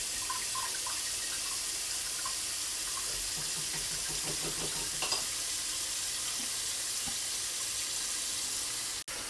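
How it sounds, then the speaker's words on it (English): Cold tap water runs steadily into a pot in a kitchen, a constant close hiss and splash with faint clinks partway through, with no talking. "just turn your cold water on and just let that run for a minute to calm that down"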